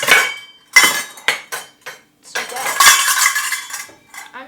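Metal measuring cups clatter and clink in a home kitchen while cookie ingredients are gathered, a close, loud run of irregular jangling bursts with brief pauses between them.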